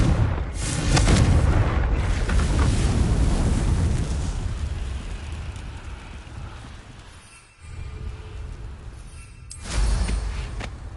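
Blasting Confringo spell explosions in the video game Hogwarts Legacy, a loud sustained booming roar with a strong low rumble that fades, dips to near silence, then swells again in a fresh burst near the end; no talking.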